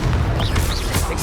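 Confringo fire spell blast in Hogwarts Legacy, a short burst of booming, crackling explosion noise over steady game combat sound.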